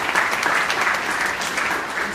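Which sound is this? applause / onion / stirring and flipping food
applause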